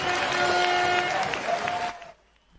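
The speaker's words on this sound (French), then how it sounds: "On va se garder quelques applaudissements encore" Audience applause during a French-language online show, a steady wash of clapping that tapers off and stops near the end.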